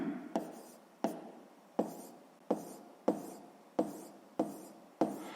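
Pen or chalk writing out a math solution, a run of about eight short strokes, each opening with a sharp tap and trailing off in a scratchy rub, close and fairly quiet with no talk.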